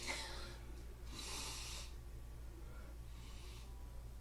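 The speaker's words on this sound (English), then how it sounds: "I'll do the sniff." A person sniffing coffee from Black Rifle Coffee Company, Blackbeard's Delight roast: three breathy inhaling sniffs, a short one, then a longer one, then a fainter one, close to the microphone over quiet background hum.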